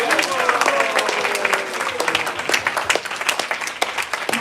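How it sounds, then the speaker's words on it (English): An audience claps and applauds for a children's Sunday school class at a Gita Jayanti gathering, a dense, steady patter of many hands in an indoor hall, lasting throughout. "please join me in giving them a big round of applause"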